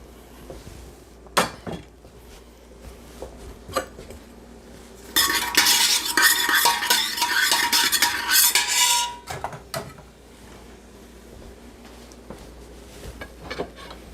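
Carrot, celery, onion and garlic hit melted butter in a pot, setting off a loud, steady sizzle for about four seconds amid scattered clinks and scrapes of a utensil against cookware.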